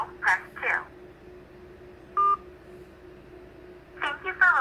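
A single short touch-tone beep from pressing a key in an automated phone survey menu, heard between stretches of a recorded voice on the line.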